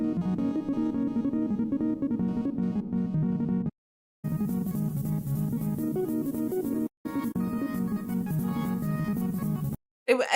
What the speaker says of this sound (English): Basically every song would have had some kind of sound like this.